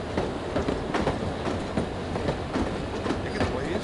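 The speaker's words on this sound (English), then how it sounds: "I love riding the train." Steady rumble of a train rolling on rails in the spy game No One Lives Forever, with rhythmic clickety-clack of wheels over track joints, loud and continuous with no voices.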